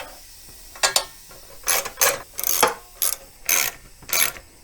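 Tightening M6 bolts on a mini bike with a ratcheting tool, heard as several short bursts of quick clicking ratchet strokes separated by brief pauses, close and fairly clear with no talking.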